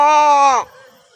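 A voice imitates a cow's moo, one long, loud, drawn-out lowing call that cuts off abruptly and leaves faint background noise.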